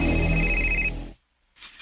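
A phone ringtone plays loudly and steadily for about a second, then cuts off abruptly into silence before faint sounds return.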